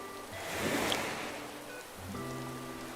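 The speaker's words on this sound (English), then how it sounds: "And it's raining, so." Steady rain falls in Animal Crossing: New Horizons, a soft continuous hiss of rainfall with faint tonal game music running underneath.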